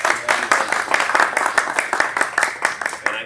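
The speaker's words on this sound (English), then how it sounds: "So I just want to give a round of applause." Audience applause at a live RV product seminar, a short burst of rapid, dense hand claps from a moderately sized crowd, steady and close for a few seconds.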